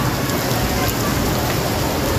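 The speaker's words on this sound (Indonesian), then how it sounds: "Hujan kuat, hujan kuat" Heavy rain pours down steadily in Penang, Malaysia, in a dense, continuous hiss with no pauses.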